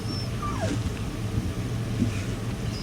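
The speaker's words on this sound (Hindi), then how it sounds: "ये कुत्ते की आवाज़ कहाँ से आ रही है?" A dog yips and whimpers faintly inside the Resident Evil 4 video game, with a few thin whining calls rising over a steady low rumble of in-game ambience.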